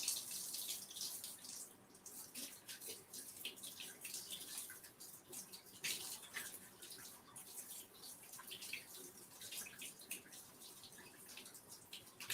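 Hot water runs steadily from a kitchen tap into a cast iron pan or sink, a continuous close hiss and splash lasting throughout with no talking over it.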